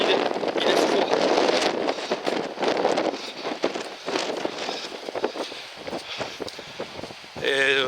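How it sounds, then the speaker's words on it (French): Cold wind buffets a microphone on the Brittany coast, a rough roaring rush that gusts and fades, loud and close, with a voice heard briefly amid it. "Le vent il pousse"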